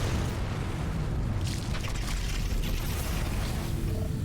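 Explosion in The Riftbreaker video game, a loud, sustained rumbling blast with a broad roar and crackling debris that stays steady and heavy for a few seconds.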